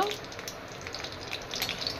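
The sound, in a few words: dry red chillies and black cumin sizzling in hot oil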